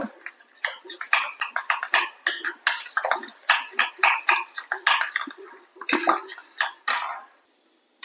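Duck eggs being beaten in a bowl, with a steady run of quick clinking, scraping strokes against the bowl's sides that fade out at the end. The whisking is close and no one talks over it.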